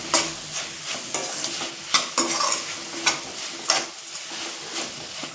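Dry coconut being stirred into a paya curry in a pan, with a spoon scraping in repeated strokes over a steady sizzle that stays close and clear, with no talking.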